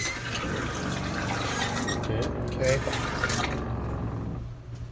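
Water runs steadily from an RV travel trailer faucet, a close, continuous hiss and splash that stops near the end, with a voice saying a single word partway through.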